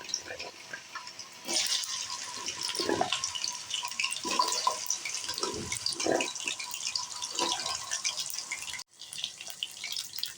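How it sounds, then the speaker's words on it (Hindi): Taro pieces drop into hot cooking oil and fry with a bright, crackling sizzle that starts abruptly and continues steadily, close and fairly loud, with a few sharper pops. "तो आपने अरबियाँ इसके अंदर डाल लेनी है।"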